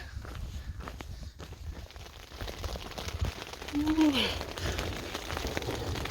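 Hail patters steadily on a hiking trail in the Colorado mountains, a dense, even crackle that runs throughout, with a short whistling rise and fall partway through.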